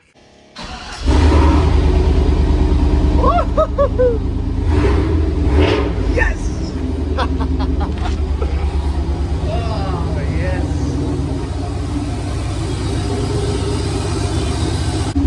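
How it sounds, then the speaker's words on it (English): A truck engine with an LS engine swap cranks and catches, then settles into a loud, steady rumbling idle, with a voice speaking briefly over it. "please help this truck start. I don't want any more problems. Let's fire this thing up."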